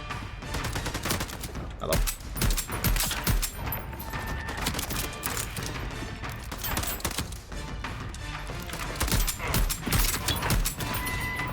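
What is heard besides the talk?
shotgun firing in video game Voidtrain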